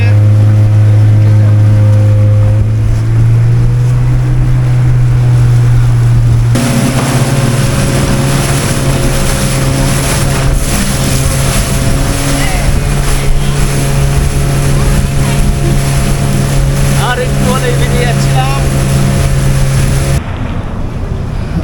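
A motorboat runs on the river at Dubare Elephant Camp in Coorg, Karnataka, its loud, steady engine drone filling the whole stretch and rising in pitch and intensity partway through before cutting back near the end.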